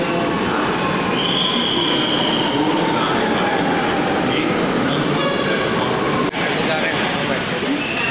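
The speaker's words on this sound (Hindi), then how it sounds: "कुछ इस तरह से लखनऊ मेट्रो के अंदर का सीन" Inside a moving Lucknow Metro car: a steady rumble of wheels and motor with a faint high whine and a brief squeal of rails.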